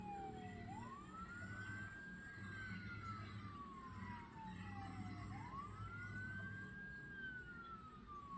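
An ambulance siren wails through stopped traffic in Malaysia, slow rising and falling tones sweeping twice, steady and moderately distant under a constant high whine and low engine rumble.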